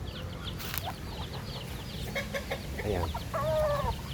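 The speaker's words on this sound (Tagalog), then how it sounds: "may nakakulong na manok" Several caged chickens clucking and a rooster calling close by, steady over a busy farmyard background, with a brief spoken word.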